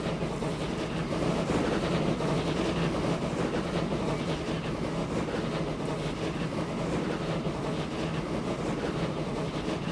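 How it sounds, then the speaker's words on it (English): Steam train running in the Transport Fever video game, UK & Ireland map: a steady, continuous rolling rumble of rail travel with a faint rhythmic clatter, loud and even throughout, with no talking. "This train can do 50."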